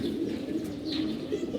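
An old-breed racing pigeon, kept in a breeding pair, gives a low, soft coo, faint and continuous over a brief stretch.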